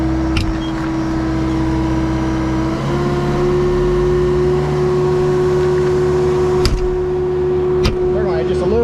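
A steady tractor engine drones and hums throughout while pumping concrete, with faint clanks and bumps on top and some background voices.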